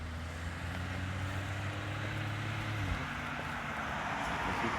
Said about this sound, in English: As you can probably hear, there are more cars out and about as we're walking today